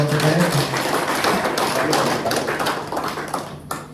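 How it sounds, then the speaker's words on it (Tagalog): A church congregation claps together for the Lord during a worship service, with a dense, steady wash of many hands applauding at close range, fading slightly toward the end. "Palakpakan natin ang Panginoon ng mga kapatid."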